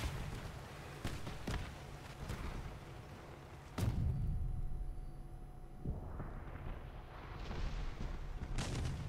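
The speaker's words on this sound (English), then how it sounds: "As you can see there, missiles, not good." Missile explosions hitting a tower in the video game Crossout, a few deep booming blasts with rumbling decay over low engine drone, fairly faint and distant.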